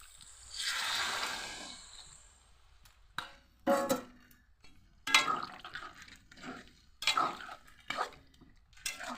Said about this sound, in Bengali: এবারে জলটা দিয়ে দিচ্ছি মটন সেদ্ধ করা।